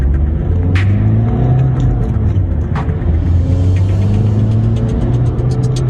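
A car engine drones steadily from inside the vehicle as a livestock farmer gives chase to suspected thieves' cars, a constant low rumble with faint mechanical rattles and no speech.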